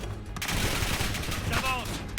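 Gunfire in the video game Call of Duty Black Ops 7, including a shotgun, fast bursts of shots cracking close and fairly loud through a brief underwater-base battle, with a voice briefly heard over it.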